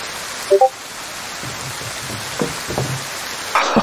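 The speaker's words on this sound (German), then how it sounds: "Ich glaube, der Regen ist zurück." Steady rain in the video game DayZ, a soft continuous hiss and patter running through the whole stretch, with a couple of brief knocks and small clattering game sounds on top.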